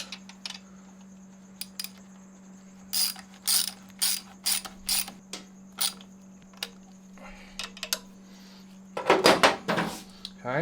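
A ratchet fitted with a 6mm Allen socket snugs up the muffler bolts of a Termignoni exhaust on a Ducati Panigale V4S. Short, irregular bursts of crisp clicking ring out close over a low steady hum, ending in a denser flurry.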